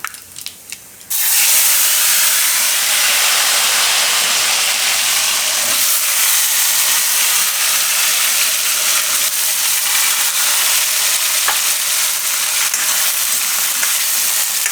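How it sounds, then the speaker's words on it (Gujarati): Potatoes cooking in hot oil in a pan for a Gujarati carrot, radish and potato vegetable dish, a loud continuous sizzle and hiss that bursts in after a brief quiet start and holds steady. "બટેટાને થોડીક વાર તેલમાં આપણે પાકવા દેવું"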